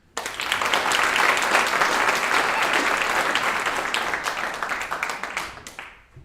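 A live studio audience bursts into sustained, dense applause to welcome poet Carl Phillips, holding steady for several seconds before tapering off.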